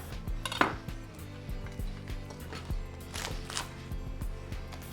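A knife taps repeatedly on a cutting board while spring rolls are sliced on a bias, with clinks of plates and utensils as the pieces are set around sauces. Sounds are close and soft, with no speech.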